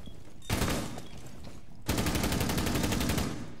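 Gunfire in the tactical shooter Rainbow Six Siege: a loud burst of automatic fire, a brief pause, then a second sustained rapid burst of evenly spaced shots running to the end, without talk.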